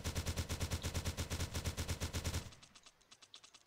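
An automatic weapon in a Unity 5 survival video game fires a steady, rapid stream of evenly spaced shots for about two and a half seconds, then stops, leaving faint trailing clicks.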